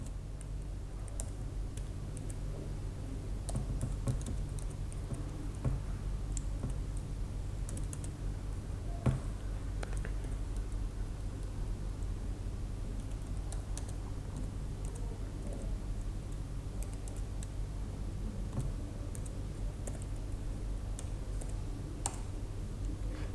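Steady computer keyboard typing while entering Arduino code for a 16x2 LCD, with a continuous run of soft, close key clicks over a low background hum and no talking.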